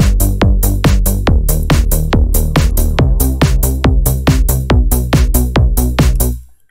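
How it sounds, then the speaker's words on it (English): Programmed FL Studio beat of kick, snare, open hi-hat and bass looping steadily, with punchy evenly spaced drum hits over sustained low bass, loud and alone with no talk, ending abruptly. "So I have a kick, snare, open hat and bass."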